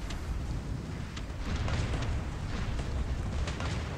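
Heavy naval gunfire from the cruiser Pensacola during a naval battle game, a continuous rumbling roar of distant booms and thuds blending together, steady and dense without clear gaps.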